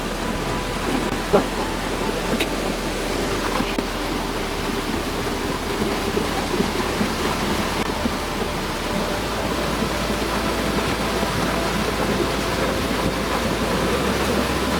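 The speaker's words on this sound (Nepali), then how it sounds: "अन्ततः हामीहरू झरना पुगेरै छाड्यौँ।" A large waterfall deep in a jungle gives a steady, dense roar of falling water that holds at an even level throughout, with no break or pause.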